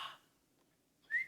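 A voice imitates the whistling wheeze of an asthmatic chest: a faint breathy hiss, a pause, then a short, thin rising whistle, close and quiet with no words.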